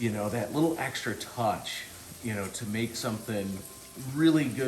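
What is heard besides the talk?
None of the usual background noises is heard.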